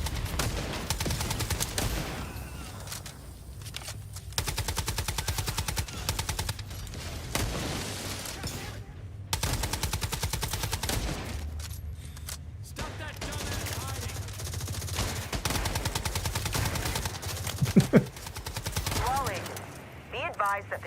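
Rapid automatic fire from an MMR in a video game, dense bursts of gunshots rattling nearly continuously with brief pauses, a voice speaking now and then over the shooting.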